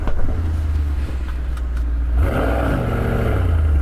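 High-performance car engine in a drag race between an Audi RS6 GT, BMW M5 CS and Mercedes-AMG E63 S, a close, loud idle rumble that swells into a hard revving launch surge.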